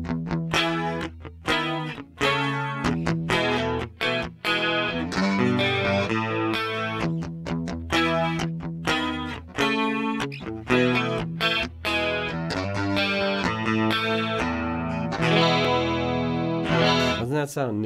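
Electric guitar run through a Rockman Soloist headphone amp, playing a song with a compressed, chorused, distorted tone; a continuous loud riff with rhythmic chord stabs and sustained notes, heard alone.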